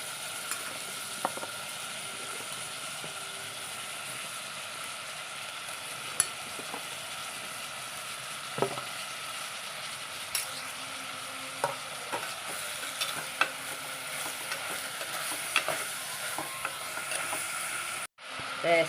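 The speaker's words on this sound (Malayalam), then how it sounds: "ചെറുതായിട്ടൊന്ന് വഴറ്റിയാൽ മതി. ഈ മാങ്ങയും പച്ചമുളകും കൂടെ ചേർത്ത് കൊടുക്കാം." Mango pieces and green chilies sautéing in a pan, a steady soft sizzle running throughout with occasional clinks and scrapes of a stirring spoon, close and moderately loud, no talking.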